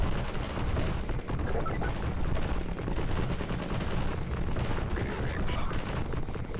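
Video game gunfire in CoastVille, a steady, dense rattle of shots and blasts that keeps going without a break at a loud, even level.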